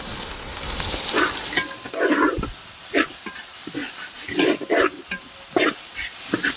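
Fifty grams of ginger and garlic fry with onions cooked past translucent in a pan for a Singapore-style small onion and soy chunk dish, a steady sizzle broken by repeated scraping stirs up close.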